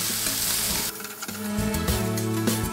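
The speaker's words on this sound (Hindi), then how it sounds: "करी पत्ता डाल देते हैं और कटे हुए प्याज से तेल में डाल के हम इसको फ्राई कर लेंगे।" Curry leaves and chopped onions fry in hot oil with green chillies, a loud sizzle with clattering stirring in the pan, close up.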